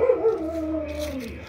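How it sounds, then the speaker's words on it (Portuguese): A single dog gives a drawn-out, falling howl-like bark, clear and fairly close, with no other sound. "cachorro latindo"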